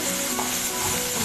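Finely chopped onions frying in a pan for an Assamese-style rajma curry, giving a steady, close sizzle at an even level throughout, with no talking.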